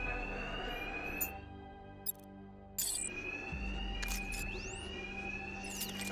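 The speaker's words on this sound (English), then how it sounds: "Two-Face's thugs won't hear me over the alarm." Alarm blaring in the video game Batman: Arkham Knight, a steady electronic tone sounding continuously with brief cuts and swells, layered over a low hum and game effects, no talk.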